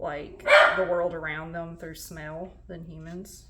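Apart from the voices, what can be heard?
dog growling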